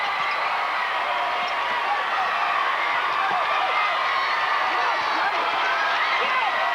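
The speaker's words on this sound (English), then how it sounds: "the Quincy crowd is cooking" A home crowd at a 1998 high school boys basketball quarterfinal roars steadily in the gym, loud continuous cheering with sneaker squeaks and ball bounces faintly under it and a voice talking over the din.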